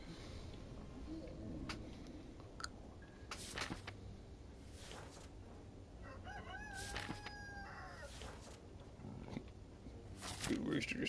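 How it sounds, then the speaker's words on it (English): A rooster crows repeatedly outside, faint and distant, its calls rising and falling over a quiet indoor background with scattered clicks and brief noises, while a person talks softly. "Rooster just going crazy outside."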